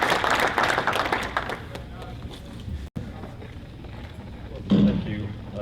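An audience at a National Institute for Animal Agriculture event gives a round of applause, a dense wash of clapping that is loudest at first and thins out over a few seconds, with a brief dropout midway and a voice near the end.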